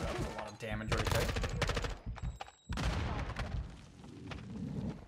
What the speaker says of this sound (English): These sentry turrets are pretty awesome.